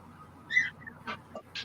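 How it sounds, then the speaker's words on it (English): A bird squawks in short, harsh bursts, several separate calls spaced unevenly over a quiet background, close and fairly loud. "Shut that damn bird up or I'm gonna kill it."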